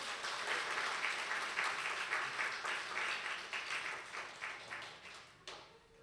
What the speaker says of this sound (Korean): 큰 소리의 박수로 축복해 주십시오